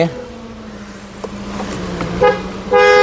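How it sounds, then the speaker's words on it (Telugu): A 2019 BMW X1 20d sounds its horn, a short loud toot near the end after a steady lower tone, close up with someone talking beforehand. "హారన్స్ కూడా మంచి వర్కింగ్లో అయితే ఉంది"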